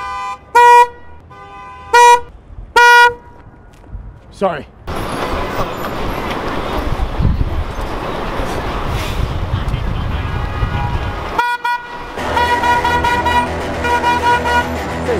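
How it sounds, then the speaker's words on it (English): Three loud, separate blasts from a real car horn wired to a 9-volt battery, carried by a pedestrian on a New York City street, then steady traffic noise with a brief apology spoken between the honks. "connecting an actual car horn to a 9-volt battery for me"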